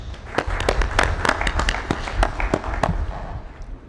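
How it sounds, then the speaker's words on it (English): Applause breaks out in a legislative session hall, a brief scattered round of sharp hand claps from a modest group, irregular and close, fading out after a few seconds. "Please give them a round of applause."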